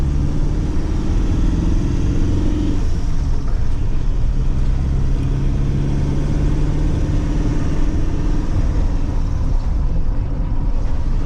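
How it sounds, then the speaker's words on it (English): A Peugeot Boxer van driving along a lane, heard from inside as a loud, steady low engine rumble and road drone that barely changes in level. "So when you come down to buy this van, you'll drive along this lane like this."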